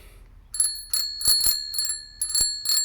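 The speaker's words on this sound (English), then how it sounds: "I purchased this bell." A cheap add-on bicycle bell on a Lectric XP e-bike rings in quick repeated dings, loud and close, with clear metallic tones sustaining between strikes.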